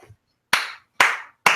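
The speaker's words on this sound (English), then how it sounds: "Round of applause for this guy." Three short, sharp bursts of clapping, each fading quickly, sound close and loud with quiet gaps between them, like a brief round of applause during a football fan livestream.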